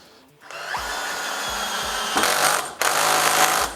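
A cordless power tool from a four-piece battery-powered set drives into material, its motor whirring steadily and close for several seconds, briefly cutting out and resuming with a strained, louder pitch.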